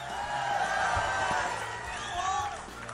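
A large crowd at a political rally in Cedar Rapids, Iowa, keeps up a sustained roar of cheering with scattered whoops, a broad, steady wash of voices that swells slightly toward the end.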